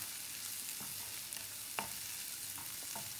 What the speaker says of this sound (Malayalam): എന്നിട്ട് കറിവേപ്പില ഇട്ടിട്ട് നന്നായി ഇളക്കുക.